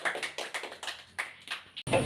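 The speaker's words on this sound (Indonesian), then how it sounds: "Beri aplaus kepada Adit" A classroom of children clapping for Adit, a short patter of quick, light claps with an uneven rhythm, close and fairly soft, ending in a louder burst.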